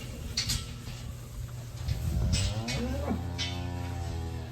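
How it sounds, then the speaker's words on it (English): Cattle moo from a herd of cows on a farm, with one long, low, drawn-out call and a second lowing close behind it over a quiet outdoor background. "Good looking group of cows. Real good looking group of cows."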